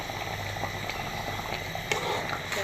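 Hilsa fish and eggplant curry bubbling steadily in a pot, a continuous soft simmering burble with faint pops, close and moderately quiet, no talking.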